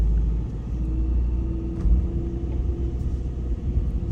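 A big Ford Transit van's engine rumbles steadily and loud while driving through small country lanes, a continuous low drone with slight swells and no break.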